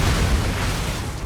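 A Bombarda spell goes off in Hogwarts Legacy with a short, loud, rumbling blast that fills the moment and fades quickly.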